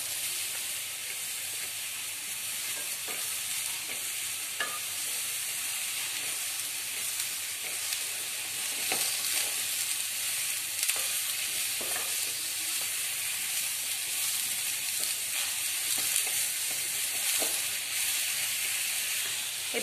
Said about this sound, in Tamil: இப்போ மஷ்ரூம் நல்லா ஃப்ரை ஆயிடுச்சு.